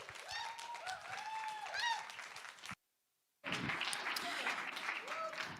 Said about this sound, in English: another warm round of applause for Aisha Yesufu, Nigerian activist.